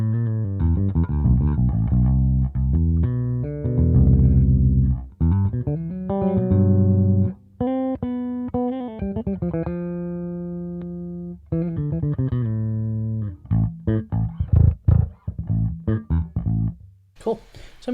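An electric bass runs through an Orange amp model on a Fractal AX8, playing a stretch of thick, beefy sustained notes and riffs with brief gaps, loud and up front, with a few sharper plucks toward the end.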